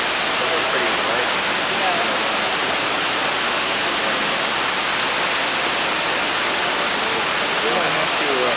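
Water rushes in a steady, dense roar, like a waterfall or fast stream heard close and loud, filling the whole stretch with no break; a faint voice occasionally sits underneath.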